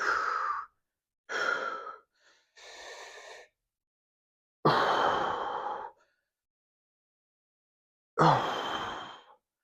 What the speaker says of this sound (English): Pardon the heavy breathing.